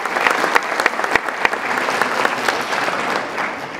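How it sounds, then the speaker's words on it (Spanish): Audience applause at a book presentation in Zapotlán, steady dense clapping from a roomful of people with sharp individual claps standing out, loud and close throughout. "del maestro Juan José Arreola, a quien también pido le brindemos un aplauso."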